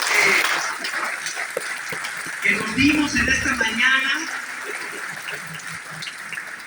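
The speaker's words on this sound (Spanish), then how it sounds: "vamos a darnos un fuerte aplauso por este regalo" An audience at a morning talk applauds briefly and loudly at first, then the clapping fades under a speaker's voice as the talk resumes.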